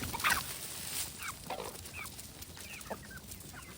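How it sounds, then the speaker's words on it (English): Chickens cluck softly and intermittently inside a coop, several birds close by with short rising calls over a hissy background and footsteps shuffling among them. "I'm starting to step on chickens again"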